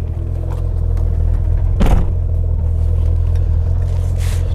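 Single-turbo Toyota Supra engine idling, a loud steady low rumble heard up close from outside the car, with one brief clattering burst partway through.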